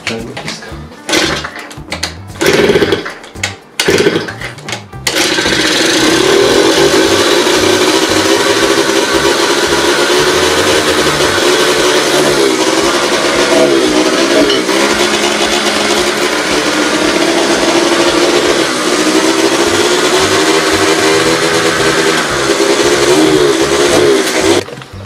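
A scooter engine being turned over with a power drill instead of fuel, with a few sharp bursts, then a loud, steady, droning whir that runs on alone.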